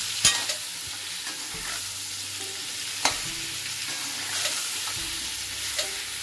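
Raw mango sprinkled with red chili powder fries in a pan, a soft continuous sizzle with occasional sharp clinks and scrapes of a spoon stirring it.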